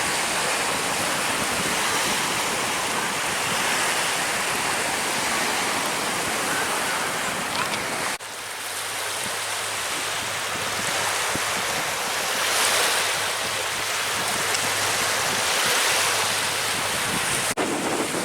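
Steady broadband wash of surf rolling in on an incoming tide at Stokes Bay, Gosport, with wind buffeting the microphone throughout; continuous and fairly loud, no voices.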